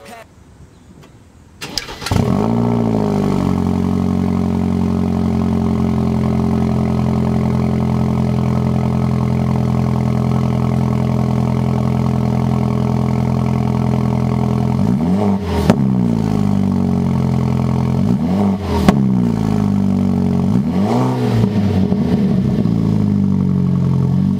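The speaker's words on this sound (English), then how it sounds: "this is going to be a fresh cold start" BMW F30 328i with an M Performance exhaust fires up from a cold start, settling into a loud, steady high idle with a few brief blips of revving near the end.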